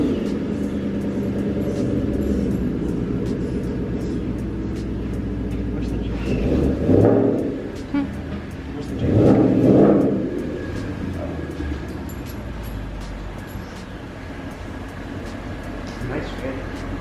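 A car engine revs in a garage, with two swelling bursts of throttle over a steady idle rumble, loud and close, while people talk throughout.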